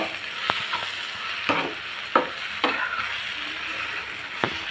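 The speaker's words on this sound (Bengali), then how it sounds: "ডিমের ভুজাটা তৈরি করে নিয়েছি এখন বেগুনের সাথে আমি মিশিয়ে দিব" Scrambled egg stirred into eggplant frying in a pan, a steady sizzle broken by a handful of sharp scraping stirs from a spatula, close and moderately loud, with no voices.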